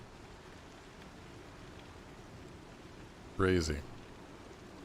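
Steady rain falls in the Star Citizen game world, a continuous even hiss throughout, briefly interrupted by a short spoken exclamation near the end.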